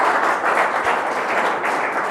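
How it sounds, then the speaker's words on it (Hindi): A studio audience claps for guest Anendra Mishra Rajan of the Aam Aadmi Party on a Hindi talk show, a dense, steady round of applause that swells and ebbs slightly for about two seconds. "एक बार जोरदार तालियां हो जाए अनिंद मिश्र राजन भैया के लिए"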